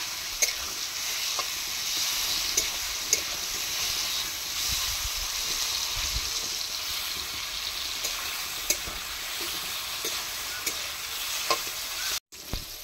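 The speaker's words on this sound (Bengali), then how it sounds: "বন্ধুরা, ঝিঙাগুলো ভাজা হয়ে গেছে, একটু হালকা ভেজে তুলে দিচ্ছি" Ridge gourd pieces frying in a pan with a constant close hiss and sizzle, punctuated by occasional light taps and stirring, steady and fairly loud throughout with no voices, a short gap near the end.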